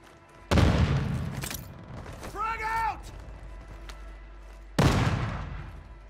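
Two loud grenade explosions in Warzone, each a sudden booming blast with a rumbling decay, spaced about four seconds apart, with a brief voice in between.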